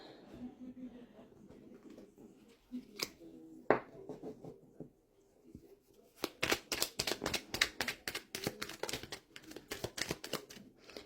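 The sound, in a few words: shuffling oracle cards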